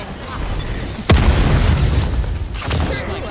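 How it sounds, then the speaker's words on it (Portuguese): A gunshot in the video game Paladins fires as a sudden loud blast about a second in, followed by a sustained rumbling, crackling tail with a second burst near the end, heard over steady background game sound. "Deu um tiro no Charin"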